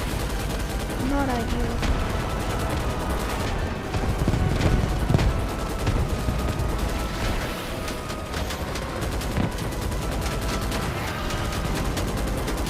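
Bug artillery fire rumbles through a video game battle in a dense, continuous barrage of booms and gunfire, with a player's voice speaking briefly over it.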